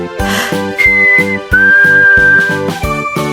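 A clear, melodic whistle carries a tune in sustained notes over a steady, rhythmic musical backing.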